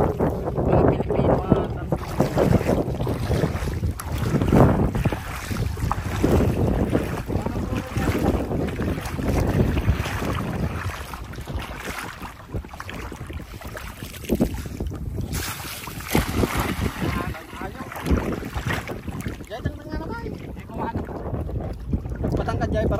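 Continuous rushing of a small boat moving through water, with heavy wind buffeting the microphone throughout.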